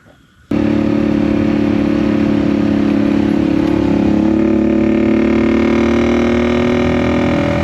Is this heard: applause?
no